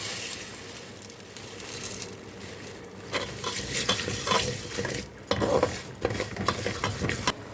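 Vermicelli noodles stirred and frying in oil in a pot, a soft sizzle broken by scraping, clinking spoon strokes that grow more frequent in the second half, close and fairly quiet.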